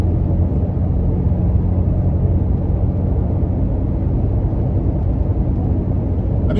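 Road noise from a Toyota Tacoma on aggressive off-road tires rolling over coarse pavement at 50 mph, a constant low droning rumble heard from inside the cab with a touch of wind noise, steady throughout.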